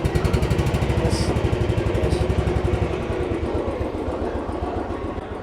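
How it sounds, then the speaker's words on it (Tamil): A Royal Enfield Bullet Electra single-cylinder motorcycle idles up close with a steady, deep thumping exhaust beat, evenly spaced pulses that continue throughout and ease slightly toward the end. "இது வந்து எலக்ட்ராவோட எக்ஸாஸ்ட் நோட்"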